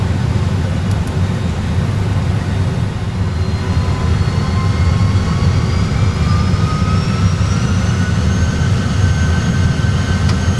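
Aircraft jet engines spool up to takeoff thrust, a loud, steady low roar with a whine rising in pitch over about ten seconds and no talk over it.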